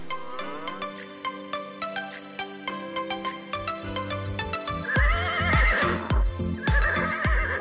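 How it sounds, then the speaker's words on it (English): A horse neighs, a high shrill whinny that trails off, followed by snorting and a second whinny, loud and close with no talking. "Horse."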